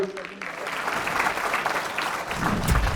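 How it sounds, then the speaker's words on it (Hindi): Loud, sustained applause from a live audience at a talent show grand finale, steady clapping filling the whole moment with a slight swell toward the end. "एक बार इस परफॉर्मेंस के लिए जोरदार तालियां हो जाए"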